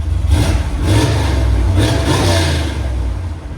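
A 1969 Chevy Corvette Stingray V8 with headers and a Flowmaster Super 44 exhaust revs hard, a loud deep throaty roar that swells twice and eases off, close by and alone.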